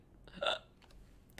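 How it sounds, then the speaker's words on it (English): A single short, fairly quiet burp comes out in one brief gulping burst, followed by soft background noise. "I'm gonna burp."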